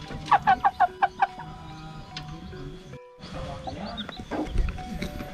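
Chickens in a coop in a remote West Java palm-sugar village cluck in a quick run of about six sharp, close calls, followed by softer rustling and scattered clucks.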